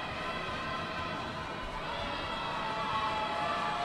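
Steady crowd noise with scattered applause fills a Russian Superleague third-place bandy match between Dynamo Moscow and SKA-Neftyanik, a continuous broad murmur at even loudness throughout.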